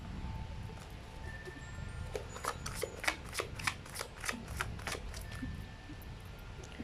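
Tarot cards are shuffled and drawn by hand, giving a close run of quick, crisp riffling snaps and flicks over a low background hiss.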